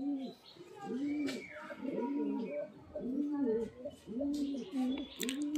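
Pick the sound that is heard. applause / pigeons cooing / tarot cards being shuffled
pigeons cooing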